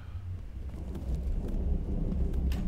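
Deep, rolling thunder rumbles low and continuous in a video game, with rain-like hiss over the top and no voices.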